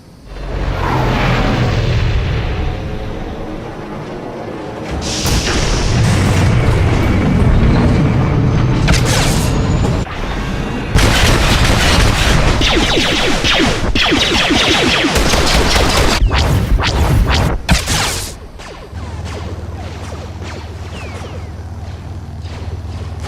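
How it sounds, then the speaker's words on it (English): Artillery explosions and blaster fire in the sci-fi game Star Wars: The Old Republic, a long dense barrage of loud booms and rapid gunfire that rises and falls, with a low rumbling lull near the end. "Enemy artillery incoming!"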